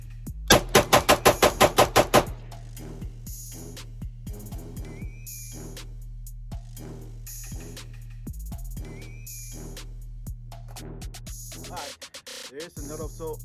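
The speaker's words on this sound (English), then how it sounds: "we're gonna shoot this other trigger. Again, this is gonna be the AR Targa two-stage short first stage trigger." Ten quick shots from an AR rifle fitted with a Timney Targa two-stage trigger with a short first stage crack out in a fast, evenly spaced burst. A shorter string of single shots follows at a slower pace, with someone speaking in between.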